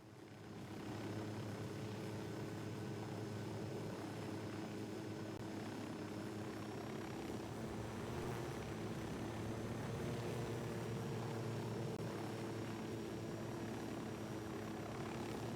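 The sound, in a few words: drone flying, from video game Ghost Recon Wildlands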